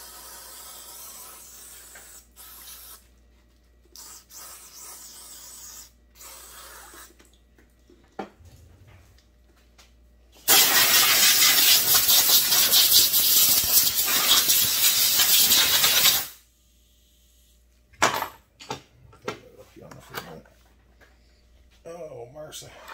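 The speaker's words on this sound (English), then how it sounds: "Let's try to wash this crude out of here." A sustained, loud hissing spray washes crude out of a Shindaiwa 757C chainsaw, running steadily for several seconds between quieter stretches of handling noise.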